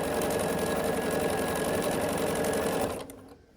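A sewing machine stitches quilt rows in a steady, fast mechanical whir that runs loud and alone for about three seconds before stopping abruptly.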